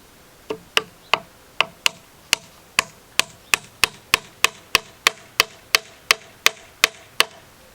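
A wooden wedge is driven into a split in a half-lap wood joint with about twenty crisp, evenly spaced hammer taps that ring out close and clear, quickening slightly toward the end.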